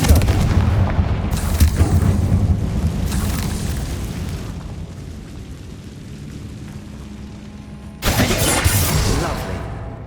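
A Confringo fire spell from Hogwarts Legacy goes off in a loud, roaring blast. Booming rumble is followed by a second burst, and a voice speaks over the noise.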